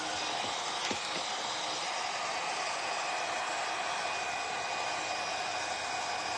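A heat gun warms WoodUBend wood trim on an open-sided wood box to re-adhere it, blowing a steady, even rush of hot air with no pauses.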